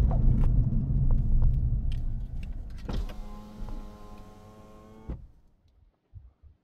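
A car drives over the top of a dam, its engine rumbling close and steady, then a whining mechanical hum like a power window motor rises before stopping abruptly, leaving near silence and a few soft knocks.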